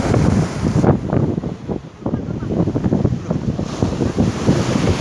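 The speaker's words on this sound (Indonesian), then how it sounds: "Denger kan ya bunyi ombaknya ya?" Ocean waves wash onto a beach near sunset with a steady surf rush, heavily buffeted by loud wind noise on the microphone throughout.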